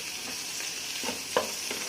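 Ground fenugreek, coriander and garlic fry in a pan for a fish curry, a steady close sizzle with a few soft stirring scrapes and no talking.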